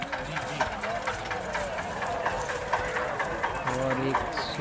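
A Sindhi horse clip-clops at the Tilwara fair, its hooves a steady rhythmic patter beneath continuous nearby talk and crowd noise.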